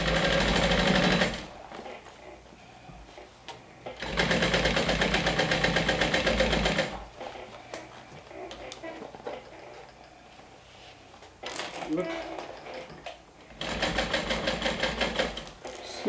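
A sewing machine stitches a fabric bag in several bursts, each a few seconds of steady whirring at close range, separated by quiet pauses.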